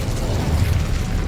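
An Incendio fire spell cast in the Hogwarts Legacy video game gives a loud, continuous roaring, crackling burst of flame, dense and low-heavy, lasting just over a second with no talk.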